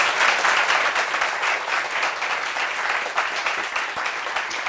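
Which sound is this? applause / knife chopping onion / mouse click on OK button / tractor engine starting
applause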